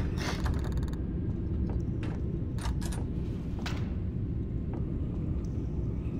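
In the Nightmare House 2 horror video game, a creaking door and mechanical clanks sound over a heavy, constant low rumble, with several short sharp creaks and knocks spread across the stretch.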